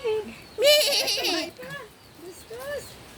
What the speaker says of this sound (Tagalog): Ang taba ng kambing.